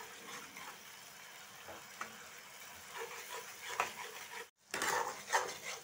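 Masala spices and tomatoes being fried and stirred in a pan for stuffed brinjal, a soft steady sizzle with scraping and clinking of a spoon against the pan, plus a short pause before the stirring resumes.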